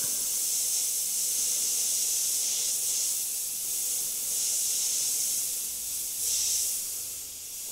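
Airbrush spraying paint over purple overspray on a clown makeup design, a steady close airy hiss that swells and eases slightly throughout, with no voices.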